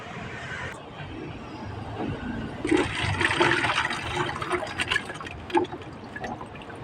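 Vinegar and pounded chili mixture pour into a jar with a steady, close liquid gush that swells in the middle and gurgles briefly near the end.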